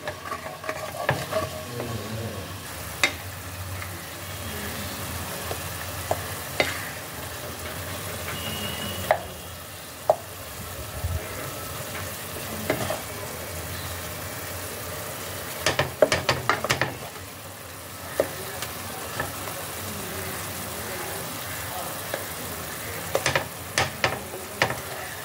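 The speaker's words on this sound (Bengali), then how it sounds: "জলটা ভালোভাবে ফুটে গেছে।" Water bubbles in a cooking pot on the stove, a steady soft roiling broken by occasional clinks and scraping stirs.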